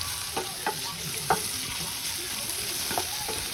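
Onions frying in a pan for a butter egg gravy, with a constant sizzle and several sharp scrapes of a spoon stirring them at irregular intervals.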